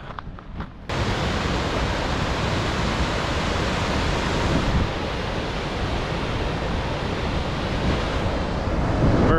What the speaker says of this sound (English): Let's walk down here and check out this waterfall.